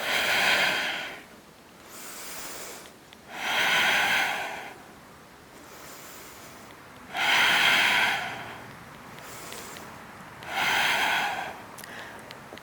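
Slow, deep yoga breaths in an outdoor park session, four long audible exhales or inhales separated by quiet pauses, close and steady, with no talking.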